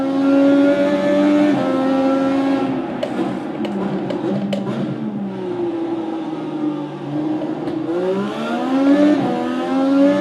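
Race car engine in the iRacing video game, a loud continuous howl rising and falling through gear changes, with quick downshift blips midway and hard acceleration toward the end.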